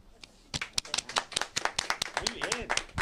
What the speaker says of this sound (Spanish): pues habrá que darle un aplauso, ¿no?